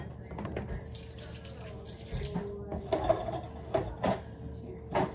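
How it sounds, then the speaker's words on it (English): Tap water runs into a kitchen sink while hands are rinsed after handling a bag of hamburger meat, a steady faint flow with soft splashes and clunks rising toward the end. "I still like to kind of like rinse my hands when I touch the baggie"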